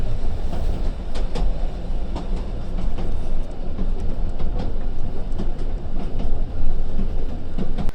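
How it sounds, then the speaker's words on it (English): A steam train near Windermere waits to take passengers to Haverthwaite, rumbling along the rails with a steady low roar and occasional clicks of the wheels, heard up close and continuous throughout. "the train is waiting for the steamer so it can return passengers to Haverthwaite"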